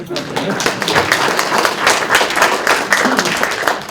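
An audience applauding steadily at a city mayor's address, dense overlapping claps filling the room at moderate loudness, with no voices standing out.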